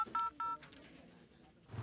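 Telephone keypad tones beep as a number is dialed, a few short clear DTMF pulses close together at the start, followed by quieter room noise and faint voices.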